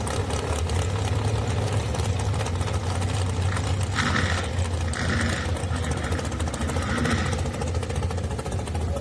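Pit bike engines run along the return road at a drag strip bracket race, a steady loud buzzing drone with bikes revving past. A constant hum of other engines and crowd noise sits underneath.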